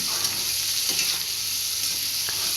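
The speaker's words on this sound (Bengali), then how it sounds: "এবার আমি কিন্তু এটাকে খুব ভালো করে কিন্তু ভেজে নেব" Elephant foot yam stalks frying with turmeric and salt in a pan, a dense continuous sizzle with faint stirring scrapes, close and steady.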